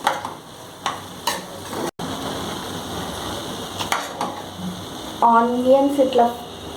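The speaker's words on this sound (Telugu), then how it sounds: "ఆనియన్స్ ఇట్లా ఫ్రై అయితే చాలు." Onions frying in oil in a pan for chicken fried rice, a steady close sizzle with occasional stirring knocks, and a brief brighter tonal clatter near the end.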